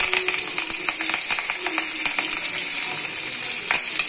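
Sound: spices sizzling in hot oil tempering

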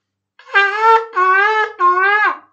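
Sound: shofar blowing shevarim blasts

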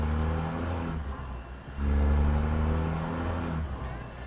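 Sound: truck engine revving

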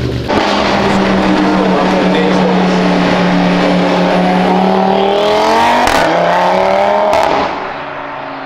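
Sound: Audi S3 engine accelerating

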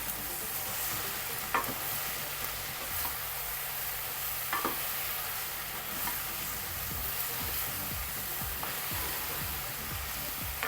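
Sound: stirring okra aviyal with turmeric in a pan

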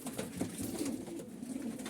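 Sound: pigeons cooing

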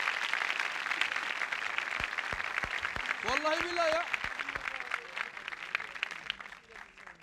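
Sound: studio audience applause

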